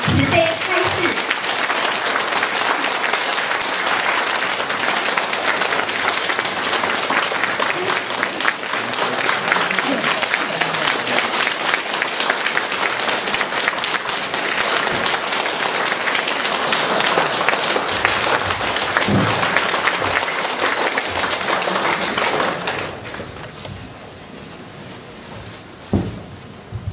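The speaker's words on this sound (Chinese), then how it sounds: "现在，让我们用最热烈的掌声，恭请我们尊敬的卢军宏台长为我们慈悲开示。" A large audience gives warm applause welcoming Lu Junhong to speak at a 2011 Dharma assembly in Brisbane, Australia. Dense, loud clapping roars for about twenty seconds, then dies away into quieter room sound.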